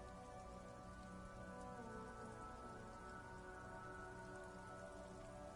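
Steady rain falls in a PS4 video game, a dense, even hiss of drops on surfaces that stays loud and unbroken throughout with no talk.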